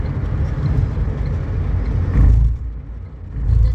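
A car driving along the Atal Setu sea bridge road, a steady low rumble of tyres and engine from inside the vehicle that swells twice, with no talk.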